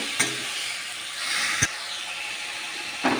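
Mango chutney sizzles as it is stir-fried in a pan, a soft steady hiss broken by a few sharp clicks of the spoon against the pan.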